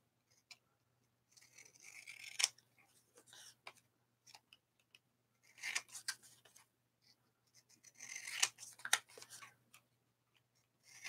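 Paper trimmed with scissors while making a flashcard art journal: faint, scattered snips and papery rustles come in short clusters, separated by quiet pauses.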